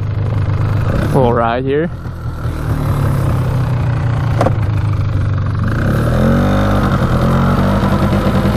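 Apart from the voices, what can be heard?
cheap 4x4 ATV engine running and idling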